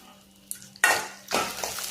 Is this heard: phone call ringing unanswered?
no